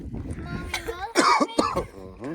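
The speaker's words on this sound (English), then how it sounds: "everybody's coughing over here now" Several harsh coughs from cedar pollen burst out in quick succession, close by, with a few voices talking before and around them.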